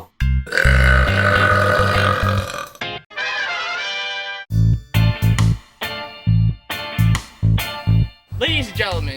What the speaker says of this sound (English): the loudest, longest burp ever